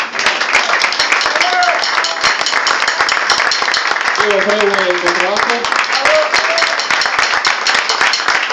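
Crowd applause for jazz musicians at a jam session in a bar, heard as a steady noisy clatter running under an announcer's voice the whole time.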